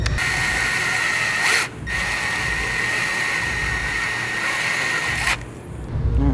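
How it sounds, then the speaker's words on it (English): A power drill runs continuously while holes are bored into an RB25 engine, with a loud steady whine that cuts out briefly twice before resuming. "Alright, so holes are all drilled."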